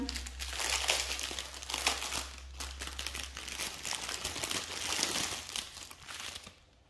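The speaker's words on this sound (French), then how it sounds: "Désolée pour les bruits de plastique." Plastic packaging from a diamond painting kit crinkles and rustles steadily and close by during an unboxing, with irregular crackling bursts and no talking.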